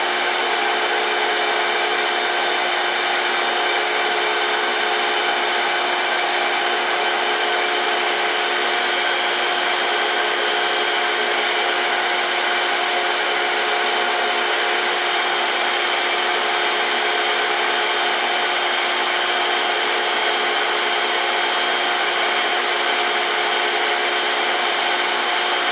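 A surface grinder regrinds a mini drill press spindle, a continuous high-pitched whine and hiss holding steady and loud throughout with no break.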